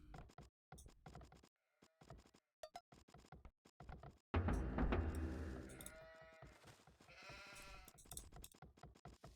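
Sheep bleating in Age of Empires II amid game clicks and thuds, several short bleats over a sparse, choppy background, with a louder burst of bleats near the middle.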